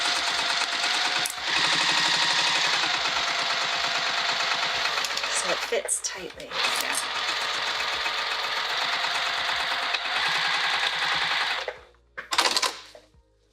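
A sewing machine stitches the lining of a bag with a wide seam allowance, running steadily and loudly for about ten seconds, pausing briefly, then starting again with a short burst, while a person speaks quietly over it.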